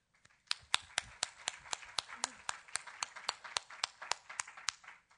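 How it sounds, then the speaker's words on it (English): Audience applause following presentations at an Internet Governance Forum meeting session, a steady run of sharp, evenly spaced claps that sound like a few people clapping close by, lasting about four seconds before fading out. "I hope you join me in a round of applause for them,"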